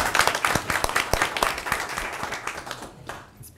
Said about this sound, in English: I'm going to give her a round of applause